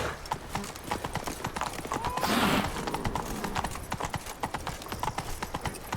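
Roach the horse from The Witcher 3 gallops in a quick, steady clip-clop of hooves, close and continuous, with a brief neigh partway through.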